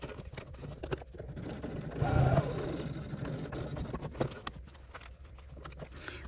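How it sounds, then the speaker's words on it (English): A sewing machine stitches a vinyl keychain pouch at a 1/4 inch seam, giving a steady mechanical whir with a brief louder run in the middle. "now we're going to go over to the sewing machine. We're going to sew along here at 1/4 inch"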